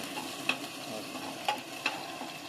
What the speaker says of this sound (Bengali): এই যে রসুন ফোড়ন দিলাম, তেলের মধ্যে রসুন দিলাম